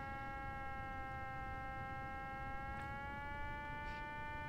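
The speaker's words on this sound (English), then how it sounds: "It has a when you are in a plane kind of sound, the white noise." Steady airplane cabin white noise from Microsoft Flight Simulator X, a constant broadband rush layered with a sustained tonal hum, faint and unchanging throughout with no voices.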